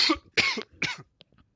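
Three raspy coughs in quick succession, close and fairly loud, followed by faint breathy catches.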